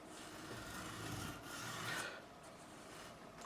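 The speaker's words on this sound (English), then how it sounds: "moving on with this Jackson and polishing my frets" Sandpaper rubbing along the fret edges of a Mexican-made Jackson MXJ 7-string electric guitar, a steady, close, dry rasping scrape with slight swells in pressure.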